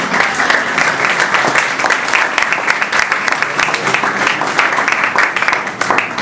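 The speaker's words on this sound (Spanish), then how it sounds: "Un fuerte aplauso a Daniel." A church audience gives loud, dense applause for Pastor Daniel Pineda, with many hands clapping in a sustained, even roar that fills the whole stretch.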